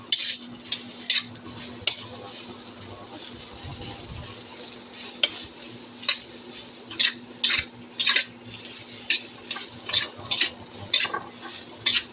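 Food is stirred and fried in a pan: a steady sizzle runs under repeated sharp scraping strokes of a utensil against the pan, coming in quick bursts and growing busier in the second half, with no talking.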